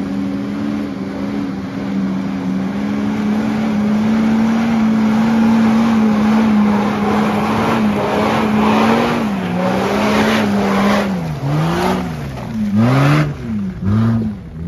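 A Mitsubishi Pajero revs hard while working off-road in mud. The loud, sustained engine drone holds steady, then rises and falls in repeated revs near the end, close by with no speech.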